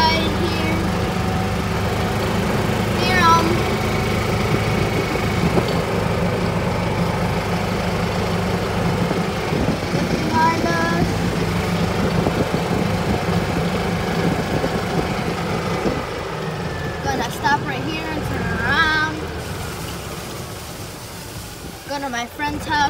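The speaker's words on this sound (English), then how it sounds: "we're just taking a little golf cart ride here" A golf cart's engine hums steadily during a ride along trails, a constant low drone with faint rattles and bumps, while a voice talks over it for most of the time.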